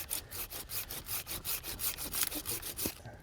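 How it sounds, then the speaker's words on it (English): A hand saw cuts through a tree branch near the trunk during pruning, with about a dozen steady, even back-and-forth strokes, close and clear, with no talking. "I'm going to make a little cut on the bottom because I don't want to strip out this tree"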